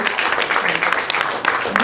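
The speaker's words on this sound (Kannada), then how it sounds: "ಕಲ್ಯಾಣ್ ಸರ್ಗೆ ಒಂದು ದೊಡ್ಡ ಚಪ್ಪಾಳೆ ಬರಬೇಕು" An audience breaks into applause for Kalyan at a Kannada film event, a dense, bright wash of many hands clapping, close and loud and sustained throughout.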